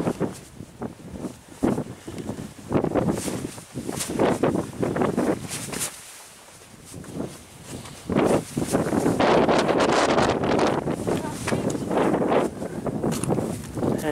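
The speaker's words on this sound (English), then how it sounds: "The wind is so strong it almost blows you over." Strong gusting wind buffets a microphone on a bare rocky mountain summit at about 13,000 feet, roaring in loud uneven blasts with a brief lull midway before surging back even harder.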